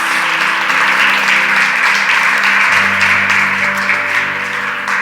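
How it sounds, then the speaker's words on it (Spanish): A church congregation claps together loudly and continuously, a dense wash of applause with a low sustained organ or keyboard tone underneath. "Denle un aplauso fuerte, iglesia."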